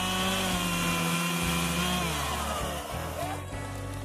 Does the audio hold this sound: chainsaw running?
yes